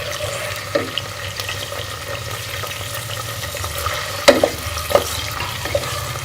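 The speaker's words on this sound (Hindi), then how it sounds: "घी गर्म हो चुका है। अब हम इसमें प्याज डालेंगे और प्याज को हल्का सा ब्राउन कर लेंगे।" Onions fry in hot ghee in a pan, a soft continuous sizzle broken by a few sharp clinks and scrapes of a spoon stirring, close and alone with no voices.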